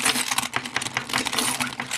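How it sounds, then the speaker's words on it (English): Metal keys scraped and rubbed hard across the glass screen of a Nokia Lumia 920 phone, giving a close, continuous gritty scratching with rapid uneven strokes for about two seconds, no voices. "So we'll go ahead and use a key on it directly"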